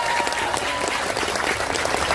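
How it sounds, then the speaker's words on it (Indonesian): Steady audience applause at a pengajian religious gathering, dense, close clapping from a crowd filling the whole stretch evenly, with faint voices mixed underneath. "tepuk tangan dulu Pak santri kita"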